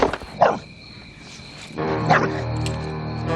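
A dog barks in a movie scene, two or three sharp yaps spaced apart, fairly close, over a steady tonal background hum.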